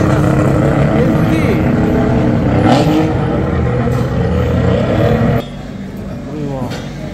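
A Mazda RX-7 FD3S drift car with a bonnet-exit exhaust roars loudly past at high revs at Fuji Speedway, its exhaust note shifting as it goes by, with excited voices talking over it.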